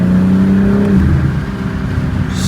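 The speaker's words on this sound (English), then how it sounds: "Driving the manual M4." A manual BMW M4 accelerating, a loud steady engine drone heard from inside the car with a falling then rising tone as it pulls hard, with no voices.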